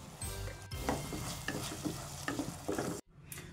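Onion, tomato and ginger-garlic paste fry in a pan for a bean curry, with a sizzling hiss broken by repeated scraping stirs, then a brief drop to near silence before the sizzle resumes.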